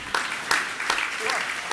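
An audience applauds during a spiritual question-and-answer discourse by a Jain monk, with scattered sharp claps over a steady murmur of crowd noise and voices underneath.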